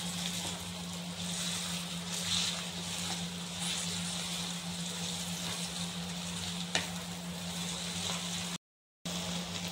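Brinjal pickle frying in oil with tamarind and tomato pulp, a steady close sizzle and bubbling that holds evenly throughout, with a faint stir or clink partway through and a brief dropout near the end.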